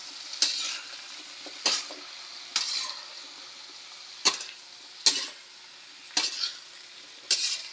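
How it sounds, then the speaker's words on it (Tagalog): Mixed vegetables for pinakbet with pork cracklings get stirred in a pan, several distinct scraping, clattering strokes spaced irregularly over a soft background sizzle. "lagyan natin yung ating penakbet, yung halo-halong gulay. Ayan. So, halo-halo lang."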